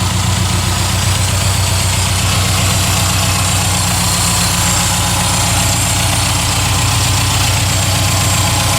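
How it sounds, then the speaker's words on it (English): Rebuilt 1981 Subaru EA81 engine running at a steady idle, loud and close with a continuous rumbling drone and rapid ticking pulse, no talking over it. "From a pile of pieces to a running motor."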